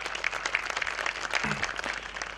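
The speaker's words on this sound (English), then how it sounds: "I would request all to give a round of applause to sir" Applause from an audience at an institute branch event, steady mid-level clapping carrying through the whole moment without talk.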